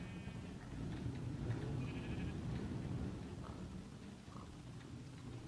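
Sheep bleating in Minecraft with the Better Than Wolves mod: a few faint, brief bleats scattered over a steady low in-game background hum.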